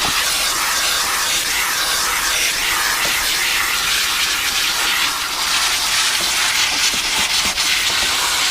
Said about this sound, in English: Let the steamer do the work.